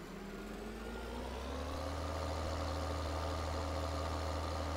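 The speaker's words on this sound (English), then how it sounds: "we got a beefier tractor for plowing" International tractor engine in Farming Simulator 2013, a heavy diesel drone running steadily and loud throughout, slightly rising in level, with no talk over it.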